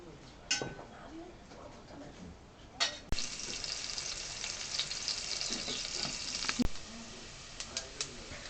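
Sliced onions frying in a pan until golden for a Kerala-style pepper chicken curry, giving a soft steady sizzle with a few brief clatters and sharp knocks, faint and close with no talking.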